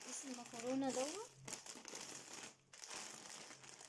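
Crinkly plastic bag of pasta handled up close, giving crackling rustles in several bursts broken by brief pauses, with a voice talking over the start.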